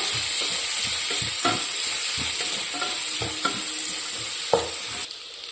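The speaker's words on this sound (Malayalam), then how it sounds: "ഇത് സവാളയും പച്ചമുളകും നല്ല പോലെ ഗോൾഡൻ കളർ ആകുന്നവരൊന്ന് വഴറ്റിയെടുക്കണേ" Chopped onion and green chili sauté in a pressure cooker for a prawn biryani, with a steady bright sizzle and repeated scraping stirs and clinks close by, ending in a brief quieter stretch.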